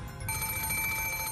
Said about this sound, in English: the ring of the phone, which had sounded like a scream for help